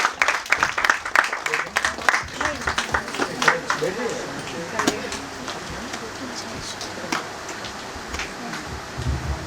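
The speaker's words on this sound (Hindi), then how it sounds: "एक बार मनीषा जी के लिए जोरदार तालियां" Scattered clapping rises from a kavi sammelan poetry gathering to welcome a first-time poet, fairly loud at first and then thinning into a few claps under a speaking voice.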